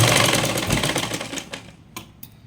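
A sewing machine stitching a blouse lining runs in a steady, rapid mechanical whir, loud and close, then slows and stops halfway through, leaving a few faint clicks.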